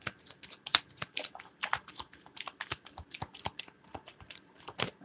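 A deck of cards is shuffled up close, with quick, crisp riffles and soft taps in an uneven rhythm and no talking.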